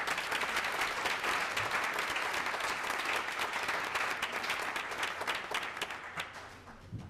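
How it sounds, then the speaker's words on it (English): A school board meeting audience gives a big round of applause for coaches, dense sustained clapping from many hands that fades toward the end. "let's go ahead and just give them all one big round of applause."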